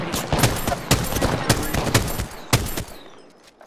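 Gunfire in the Apex Legends video game, a string of sharp, evenly spaced shots about half a second apart, loud and close, with a faint voice briefly underneath.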